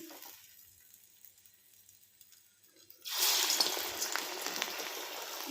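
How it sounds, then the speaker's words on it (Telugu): Drumstick-leaf and amaranth gare batter drops into hot oil, bursting into a loud, steady sizzle and crackle about midway after a quiet stretch, close up and continuing to the end. "గారె అయితే వేసాను అలా అన్నీ వేసుకున్నాం"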